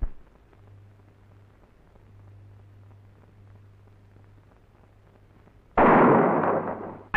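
Firecrackers go off on a rooftop terrace at night, a loud sudden crackling burst after a long stretch of quiet low hum, then a second burst starting right at the end.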